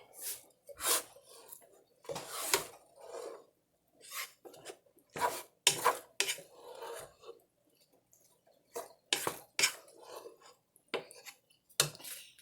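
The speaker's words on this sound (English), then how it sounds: "And we'll stir that up." Stuffed pepper filling stirred in a pot, giving repeated scraping and clinking strokes of a utensil against the pot, coming in irregular bursts with short pauses, close and fairly clear with no talking.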